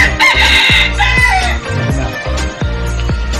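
A loud rooster crows close by at a pigeon loft, a long strained call, with clucking and other fowl noises layered around it.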